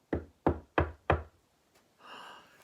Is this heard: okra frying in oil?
no